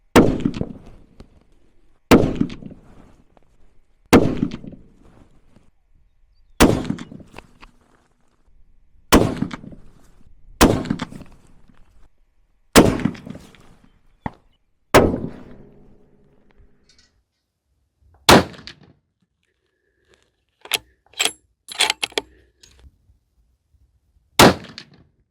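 Bolt-action rifles from Seekins Precision and Bergara firing at an outdoor shooting range: about a dozen loud, sharp reports, spaced a few seconds apart with short echoing tails, then a quick cluster of fainter clanks near the end.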